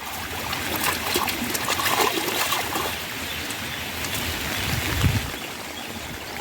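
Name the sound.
light rain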